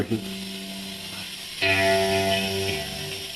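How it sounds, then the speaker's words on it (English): Bass guitar run through choir and delay effects, sustained tones ringing out with a swell partway through, a plucked note returning in a layered, echoing wash. "So I hear a choir effect and delay."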